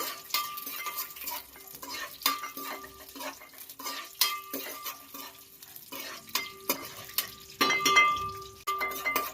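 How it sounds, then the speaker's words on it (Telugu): Peanuts fry in hot oil in a pan while a spoon stirs them, giving steady sizzling with repeated scraping and clinking strokes of metal on the pan, close and fairly loud, with no talk. "నూనె వేసుకోండి వేడైన తర్వాత పల్లీలు వేయండి ఇందులో మరి ఒకసారి ఇవి బాగా ఏగాలండి"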